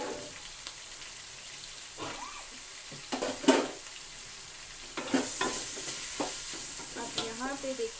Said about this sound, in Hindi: कीमा रखा है वो भी फ्राई हो रहा है।